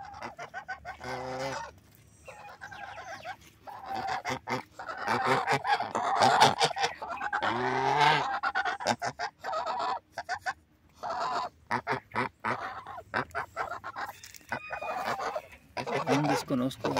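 Several three-and-a-half-month-old African geese honking loudly and repeatedly in a pen, nasal calls overlapping in irregular bursts, close by, with some chatter mixed in.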